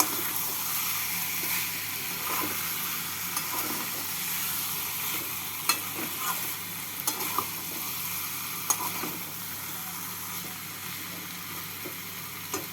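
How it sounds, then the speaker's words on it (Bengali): Fried shrimp being stirred with potato and pointed gourd in a pan, a continuous soft sizzle with occasional scraping and clinking of the spoon, no talking. "আলু পটল দিয়ে নাড়াচাড়া করে নিয়ে দিয়ে দিচ্ছি ভেজে রাখা চিংড়ি মাছ মাছ দিয়ে আলু পটলের সাথে মেয়ে নেব"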